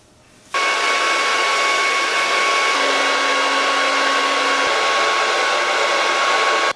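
A hair dryer fitted with a concentrator nozzle switches on after half a second and blows steadily and loudly for the rest of the clip, its airflow a constant close whoosh with a faint tonal hum.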